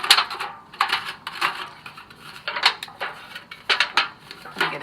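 A thin metal pie pan being poked with holes and bent by hand in a kitchen, giving a string of close, crisp metallic taps, crinkles and clanks in an irregular rhythm.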